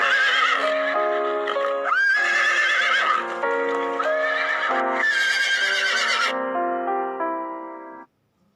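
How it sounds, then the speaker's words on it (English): A horse whinnies in several loud, shrill neighs with falling and wavering pitch, close and clear, ending in silence, no talk. "Now let's learn the sound of horse"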